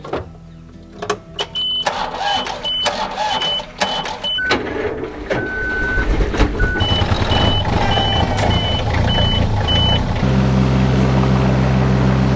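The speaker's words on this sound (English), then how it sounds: "it also could be the reverse alarm" A vehicle's reverse alarm sounds in a long, evenly spaced series of high electronic beeps, fairly loud over engine rumble and clattering mechanical noise, near a cabin property.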